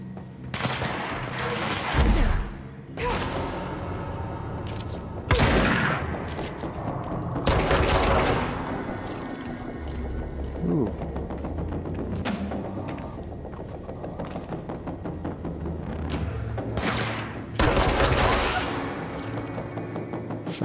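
Gunfire rattles through combat in the video game Control, with repeated loud bursts of shots and heavy impacts spaced across the clip alongside rumbling background noise.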